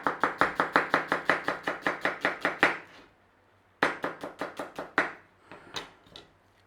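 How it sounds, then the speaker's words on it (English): A knife thinly slices onions on a cutting board in quick, even runs of crisp knocks, close and clear, broken by a short pause before a second, slower burst of cuts. "All we got to do is start slicing. We want to thinly slice this lot."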